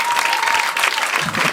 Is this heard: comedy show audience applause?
yes